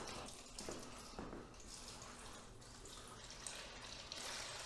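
A steady stream of thin, runny old engine oil pours and splashes continuously from a large garden tractor, a watery trickle running close by with no voices.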